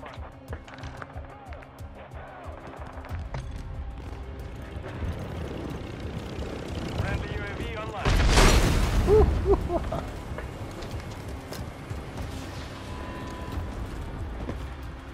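Call of Duty: Modern Warfare 3 Ground War combat keeps up a constant rumble of gunfire, with a loud explosive blast about halfway through. Battle noise stays dense and continuous.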